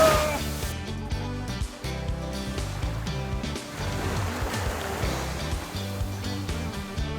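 Big, cold Atlantic surf breaking steadily on a Cape Cod beach, a continuous loud wash of waves with some broadband rumble and no talk over it.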